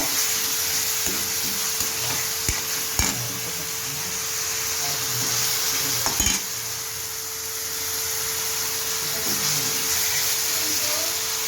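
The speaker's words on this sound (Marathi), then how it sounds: "बघा आता ही अद्रक लसूणची पेस्ट टाकली आहे थोडं तेल जास्त लागतं" Ginger garlic paste sizzles and fries steadily in hot oil in a pan, a continuous close crackling hiss with a few faint clinks of a utensil for pav bhaji.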